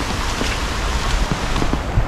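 Rain falls steadily at a nature homestay with private waterfalls, a dense, even hiss with faint pattering, close and continuous throughout, with no voices.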